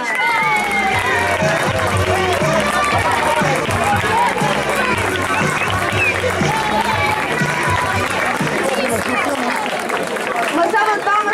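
An audience at a local dress fashion show in Santo Aleixo da Restauração gives the models a long, dense ovation, with continuous clapping mixed with crowd chatter and cheering throughout.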